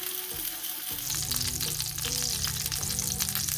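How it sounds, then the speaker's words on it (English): Pork roast searing in heated butter and olive oil in a cast iron pan, giving a steady, loud, close sizzle and crackle throughout with no talk. "Let's get our roast in here. We just want to brown all 4 sides first."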